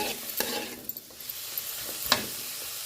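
Prawns frying in a pan of hot oil, a soft steady sizzle with a few sharper stirring scrapes and clicks, close and fairly quiet, with no talking.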